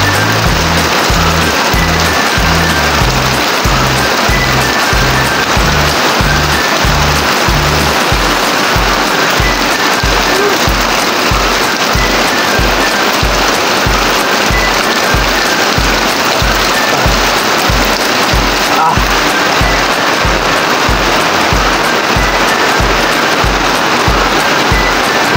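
Heavy rain pours steadily and loudly throughout, a dense continuous hiss with a rhythmic low thumping beneath it.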